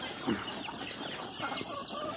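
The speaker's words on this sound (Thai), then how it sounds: "วันนี้เราจะมาดูไก่นะครับ ไก่ที่เราเลี้ยงไว้" Laying hens cluck softly in a small flock of about 50, short calls scattered across a faint, steady background.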